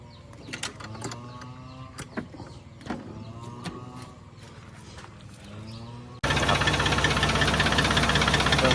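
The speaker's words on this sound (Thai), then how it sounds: "สตาร์ทเครื่องให้ฟังเสียงนะครับ" Clanking and knocking mechanical sounds with scattered thumps, then a New Holland TC48R tractor engine abruptly fires up and runs loud and steady, close by.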